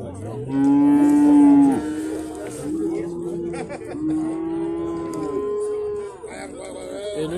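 Cattle at a livestock market lowing in long, loud drawn-out moos, one close call followed by further moos, with people talking in the background.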